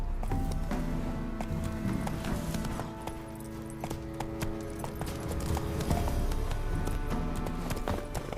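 Hooves of Roach, the horse in The Witcher 3, pound in a brisk galloping rhythm, close and steady, with faint game music and ambience beneath.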